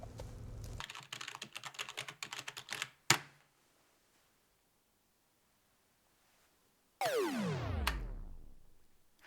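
Rapid typing on a computer keyboard, a dense run of close, sharp key clicks that stops abruptly, followed by a single loud clack, a long silence, then an unrelated falling whistle-like sweep.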